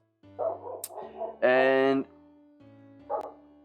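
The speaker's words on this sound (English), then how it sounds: "I'm sorry about the dogs." Dogs bark in short bursts, one loud sustained yelp and a few quieter woofs, close by and interrupting someone talking.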